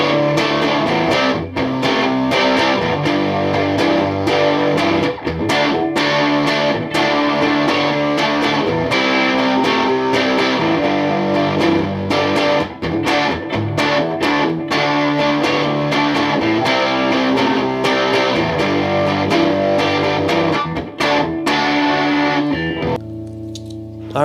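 An Ibanez SA260FM electric guitar on its bridge humbucker, played through distortion, rings out loud and dense in sustained chords and riffs for about twenty seconds, then cuts off abruptly.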